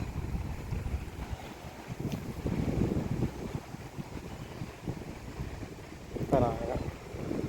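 Wind rushes and buffets steadily against the microphone during rain in misty hills near Paderu, with gusts swelling and fading and a brief sharp sound near the end.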